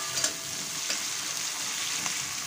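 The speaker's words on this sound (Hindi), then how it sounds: "प्याज और लंकाटा भालो करे भेजे निये भेजे नेब।" Chopped onion and green chili fry in oil, making a soft continuous sizzle with light stirring scrapes and occasional faint clinks, moderately quiet and without speech.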